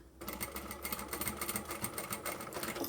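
A sewing machine runs a steady, rapid double row of stitching on a curved-bottom zippered wristlet pouch, its even rhythmic whirring close and loud with no talking.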